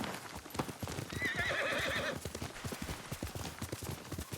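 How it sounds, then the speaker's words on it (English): Horse hooves clip-clop steadily in a continuous rhythmic run while a horse gives one clear whinny partway through, a summoned mount named Nobu in the Ghost of Tsushima video game, close and fairly loud. "I call my horse and he'll just appear"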